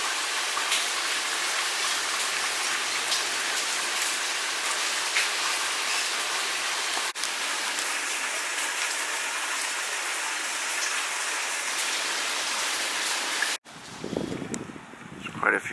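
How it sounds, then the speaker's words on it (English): Steady outdoor rain during Hurricane Hanna in Houston, a dense continuous hiss of falling water at even loudness for most of the clip, cutting off abruptly near the end where quieter ambience takes over. "Rain's let up a bit."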